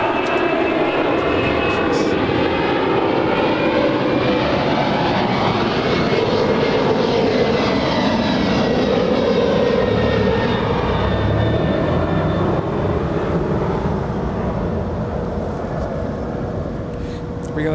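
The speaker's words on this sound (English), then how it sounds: "That is a FedEx A300" FedEx Airbus A300 heavy jet departing LAX at night, a loud continuous engine roar with whining tones that swells and holds steady throughout, close and dominant.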